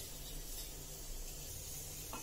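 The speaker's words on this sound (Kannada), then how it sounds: "ನಾನು ಬಿಸಿ ಎಣ್ಣೆಗೆ ಹಾಕ್ಬಿಟ್ಟು ಹಾಕ್ತಾ ಇರೋದು" Black peppercorns sizzling in a couple of spoons of hot oil for rice idli, a steady, even frying hiss that carries on without pause and with no voices.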